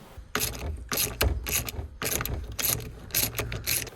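Wrench ratchet loosening a nut while fitting genuine Ford RS parts, giving a rapid run of loud, close, rhythmic clicking bursts with no speech.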